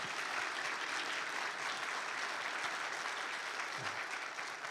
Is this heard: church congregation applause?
yes